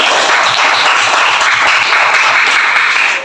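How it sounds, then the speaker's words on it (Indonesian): A classroom of students claps together. The applause is loud, close and continuous, with a fast, even rhythm across the whole span. "Jadi tepuk tangan ya."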